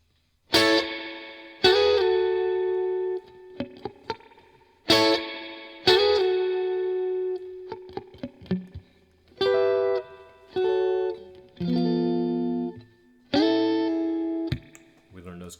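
An electric guitar with chorus effect plays ringing chords, each strum sustaining and fading, with shorter plucked notes between them; no one talks over it.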